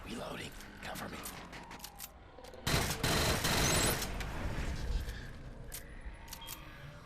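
An LS-12 SMG sidearm, likened to an Uzi, fires in Killzone Shadow Fall as bursts of rapid gunfire against a busy battle mix. A denser, louder volley lands midway, and a voice talks throughout.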